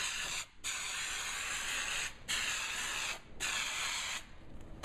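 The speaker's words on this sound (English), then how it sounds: "we'll spray the rough part of this piece with the glue" An aerosol can hisses in three long bursts of glue spray onto the rough side of a trunk bottom panel, with short pauses between bursts, close and fairly faint.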